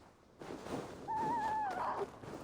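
A bird calls in the game Assassin's Creed Valhalla, one clear wavering whistle-like call held for about a second over a soft, airy outdoor ambience.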